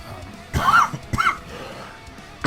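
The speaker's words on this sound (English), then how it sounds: "Got a nasty cough." A person coughs twice in quick succession, close and fairly loud, with two short harsh bursts about half a second apart and quiet afterward.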